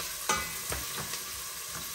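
Onions and other aromatics sautéing in a frying pan, a continuous quiet sizzle with a few sharp spatula scrapes.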